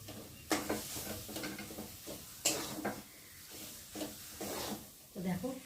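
Mashed banana with a little sugar is stirred in a pan, with a spoon scraping in repeated short strokes and faint sizzling between them, quiet and close.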